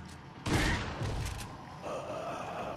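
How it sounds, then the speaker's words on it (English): Shotgun blasts in the video game Resident Evil 4: a loud booming shot followed by a second heavier thump and a fainter later report, punchy and close. "Might as well use a shotgun, why not?"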